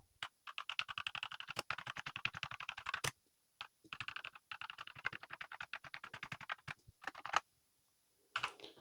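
Rapid, crisp clicking of keys pressed on a Blingboard64 computer keyboard, in fast bursts of typing broken by short silences, close and clear with no voices.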